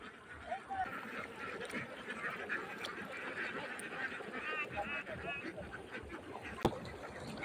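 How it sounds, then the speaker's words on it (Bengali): A flock of farm ducks out feeding in an open village field quacks steadily in the distance, a soft continuous chatter with scattered faint sharper calls. "এই দেখেন কত হাঁস অনেকগুলো হাঁস"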